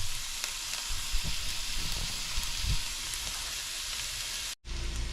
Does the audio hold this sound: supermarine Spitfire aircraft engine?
no